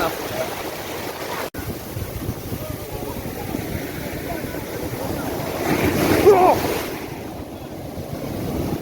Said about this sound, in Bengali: ভালোই ঢেউ আজকে